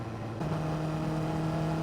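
A truck is overtaken on the road by a Honda CBR600RR sport motorcycle, giving a steady, loud engine drone with a shifting tonal hum and constant wind and road noise, with no speech.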